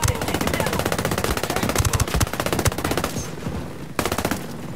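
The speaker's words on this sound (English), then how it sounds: "there is a machine gun over there, which that is fucking me up big time" Sustained automatic machine gun fire in the Ghost Recon Breakpoint video game, rapid dense bursts rattling continuously for several seconds, loud and close, with a brief pause before another burst; a player's voice is faintly mixed in.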